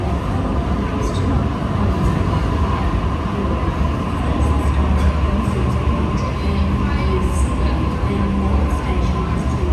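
A suburban electric train on Sydney's North Shore Line stands at the platform, its steady low rumble and hum filling the air with faint higher clatter, close and continuous throughout.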